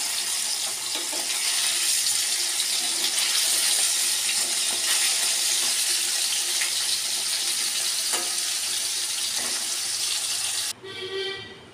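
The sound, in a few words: fish frying in oil in a kadai, being turned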